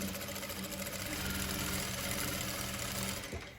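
A sewing machine runs steadily while stitching a dish towel, a continuous close whir that holds throughout and stops near the end.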